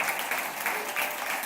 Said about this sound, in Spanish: Denle un aplauso porque fue escogido, pues.